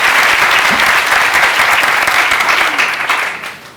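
A crowd claps loudly and steadily for several seconds after a short poetry reading, then the applause tapers off toward the end.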